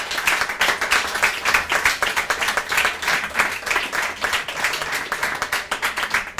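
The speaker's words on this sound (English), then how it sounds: "Let's have a round of applause for everyone who showed up tonight." A crowd claps steadily at an anniversary poetry evening, a dense, even roll of many hands that holds at a fairly loud level throughout with no voices over it.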